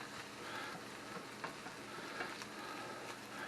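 Greasy breakfast meat fries in a pan as a soft, steady hiss with faint pops and occasional light ticks, quiet and continuous, with no talking.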